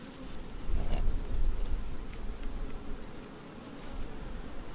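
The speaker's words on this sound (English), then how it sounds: "So we've got plenty of bees on here and a lot of brood" Honey bees swarm over a brood frame lifted from a hive, their steady close buzzing droning continuously, swelling a little early on and then settling, with no voices over it.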